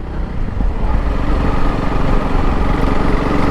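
A 2025 Honda CRF300L Rally single-cylinder motorcycle engine runs under load while being ridden on the road, a continuous loud droning rumble mixed with wind noise.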